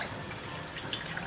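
Liquid poured out of an old pot into a sink during cleaning of cookware, a short soft steady splashing stream close by with no talk.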